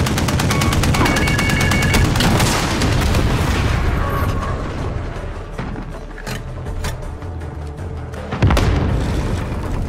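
Rocket launcher blasts and gunfire in the shooter game Call of Duty Modern Warfare, dense loud booms and rapid shots at first, easing off midway, then another heavy blast near the end.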